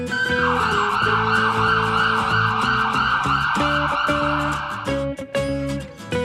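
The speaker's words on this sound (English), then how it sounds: "Yes, that's right, it's an ambulance." A cartoon ambulance siren wails in a steady repeating two-tone pattern over bouncy background music, loud and upfront before cutting off near the end.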